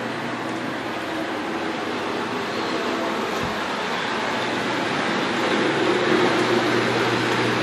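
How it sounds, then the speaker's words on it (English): A new dishwasher runs loudly with a continuous broad whooshing wash noise over a low mechanical hum, steady throughout and swelling slightly near the end, with no speech. "Listen to how loud our dishwasher is now."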